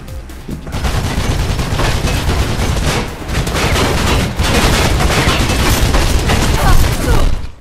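Dense, continuous automatic gunfire from enemy guns in the video game Mirror's Edge, loud and close, with rapid bursts overlapping for several seconds and only brief dips.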